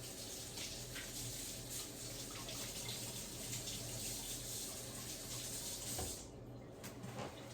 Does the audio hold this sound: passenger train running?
no